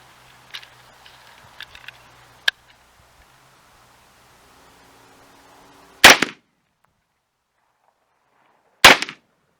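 Two loud, sharp 6.5 Grendel rifle shots ring out a few seconds apart during jump-shooting practice outdoors, each after near silence, preceded by faint clicks and handling noises.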